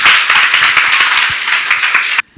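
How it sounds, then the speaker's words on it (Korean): Loud, close applause from an audience welcoming a speaker at a Korean business seminar in Daegu, with sharp individual claps throughout, stopping abruptly near the end. "큰 박수로 맞이해 주십시오."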